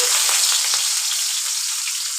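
Chopped onion sizzles in hot mustard oil in a pan, a steady loud hiss with small crackles all the way through and no one speaking.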